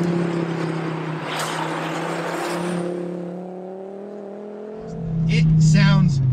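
Volvo V70R with a 2.5 liter turbocharged 5-cylinder and a welded 3-inch turbo-back exhaust, a steady engine drone that dips, then swells louder near the end, with a voice talking over it.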